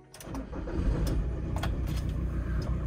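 An old Opel Kadett with worn engine mounts runs and shakes, giving a low, rumbling mid-pitched engine drone with a few clicks and rattles on top.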